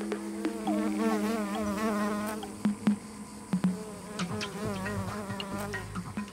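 Bees buzz near a drying waterhole during a scorching heatwave. Several close, droning wingbeats rise and fall as insects pass near, with a few brief knocks in between.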